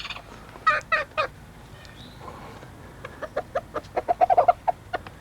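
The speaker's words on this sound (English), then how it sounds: "That's the rooster. He makes that whenever he finds a bug or any kind of food." A rooster gives his food call to hens on a farm: a few sharp clucks, a pause, then a quickening run of rhythmic clucking notes close by, with no talk over them.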